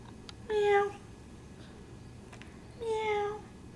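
A child imitates a cat, producing two drawn-out meows about two seconds apart, close and clear with a quiet background.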